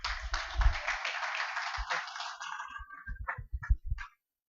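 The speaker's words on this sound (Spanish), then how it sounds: "Doble aplauso por alcanzar a llegar." Applause at a keynote lecture in Querétaro welcoming the guest speaker, a burst of crowd clapping that thins out and breaks into a few scattered claps before stopping.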